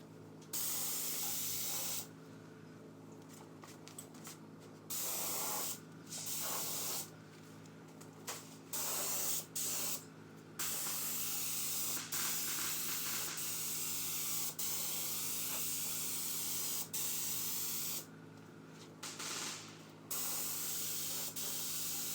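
Second coat of spray paint going onto a pickup bed trailer tailgate, the gun hissing in repeated bursts of a few seconds each with short pauses between.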